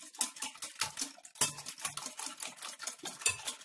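Eggs being stirred with garlic, salt and cumin in a bowl, a quick series of soft clinking and scraping strokes of utensil against dish, close and fairly quiet.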